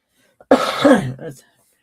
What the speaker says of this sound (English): I still kind of got a little bit of a cough from it